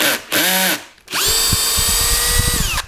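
A Bosch GSR 12V-35 cordless drill driver drives a screw into material in two runs: a short whine that rises and falls, a pause, then a longer loud sustained spin ending in an abrupt stop.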